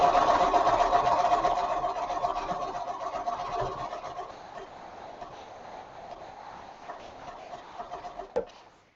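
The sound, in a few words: sewing machine quilting, stitching in the ditch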